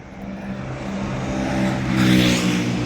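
A Hyundai Starex van heard from close by, its engine a steady low hum that swells louder as it accelerates, with rising road and wind rush near the end and no talking.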